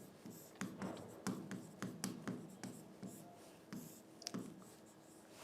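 A teacher writes on a board during a Hindi grammar lesson, a quiet, close series of quick scratchy strokes in an uneven rhythm.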